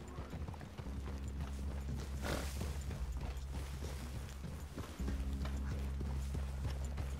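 Steady clip-clop of horse hooves walking in Red Dead Redemption 2, with a low rumbling game soundtrack underneath that swells midway through.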